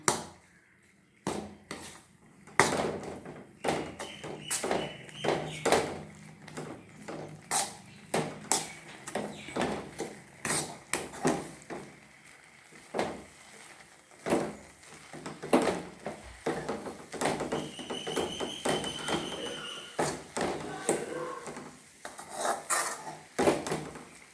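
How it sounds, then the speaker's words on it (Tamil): Roasted flour being stirred and its lumps broken up in a pot, giving repeated scraping, rubbing and knocking strokes in an irregular rhythm, close and moderately loud, with no talk. "எல்லாமே வறுத்த மாவு கட்டி பிடிக்க தான் செய்யும் சரி பண்ணிக்கணும் நம்ம அப்புறம் உடச்சிக்கணும் கட்டியெல்லாம்"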